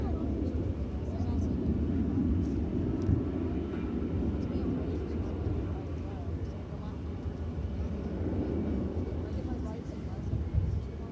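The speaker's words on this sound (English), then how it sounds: "We've got American Flight 2348 going to San Antonio. It's an Airbus A321. You hear it, and now you see it." An Airbus A321 airliner on an American flight to San Antonio takes off at DFW Airport, a broad, steady jet roar rumbling at moderate distance for several seconds, with voices talking over it.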